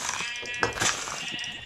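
Sheep in Minecraft bleat twice in quick succession, close and clear over faint game ambience.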